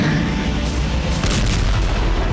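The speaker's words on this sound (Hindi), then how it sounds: "इसलिए बेलगोरोद में फिर धमाके हो रहे हैं।" Heavy booming blasts from guided bomb strikes in Belgorod, Russia, during the Russia–Ukraine war, a dense, continuous rumble of thuds and cracks with no talk.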